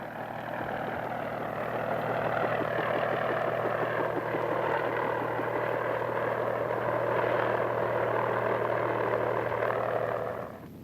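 A heavy army helicopter, heard through a vintage film soundtrack, drones steadily with a muffled rotor chop and engine whine, holding a constant level without voices.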